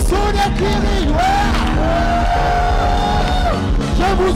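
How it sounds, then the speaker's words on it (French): A French-speaking church congregation shouts cries of joy during a worship service. Loud, overlapping, sustained vocal cries and whoops run throughout over a dense, continuous backdrop of voices and music. "Poussons des cris de joie."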